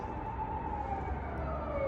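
A police car siren wails on Awajishima island in Japan, a sustained wavering tone, moderately loud but somewhat distant, over the steady hum of a moving vehicle.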